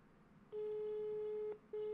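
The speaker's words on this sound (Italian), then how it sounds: "Facciamo che adesso lo chiamo. Ovviamente spero che mi risponda." Repeated long flat tones of an unanswered telephone call in a Minecraft game, a steady beep of about one second, a short gap, then the next beep starting, loud and clear with no talk over it.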